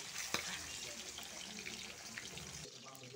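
Small aair fish fry lightly in a pan, giving a faint, even sizzle with a few soft clicks and a brief knock, quiet and steady throughout.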